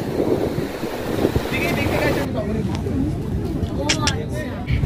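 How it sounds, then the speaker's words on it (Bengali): Sea waves rolling onto the sandy beach at Digha, a steady roar of surf mixed with strong wind buffeting the microphone, with people talking nearby. "এই যে ঢেউ আসছে,"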